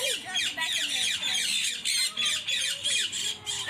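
A parrot screeches in repeated harsh, loud squawks at a quick, regular pace close by, with a voice and other talk mixed in.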